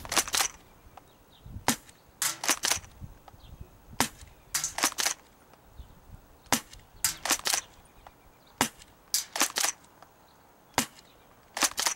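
Bravo Multi-shot Tri-shot airsoft shotgun firing outdoors, sharp snapping shots in quick clusters of two or three, repeated many times at close range.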